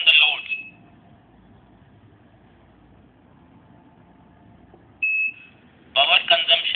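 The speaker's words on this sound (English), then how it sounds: "And we have a buzzer also here." A talking energy meter's buzzer sounds a brief, clear electronic tone after a quiet stretch. Loud synthetic voice announcements from the device can be heard before and after it.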